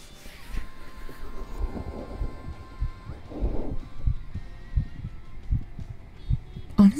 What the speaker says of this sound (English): I'll just use my own heartbeat for that.